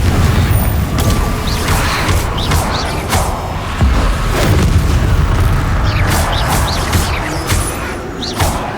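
A Confringo blasting curse going off in Hogwarts Legacy, a loud sustained rumble with crackling bursts and debris, layered over dense game effects and background music without letup.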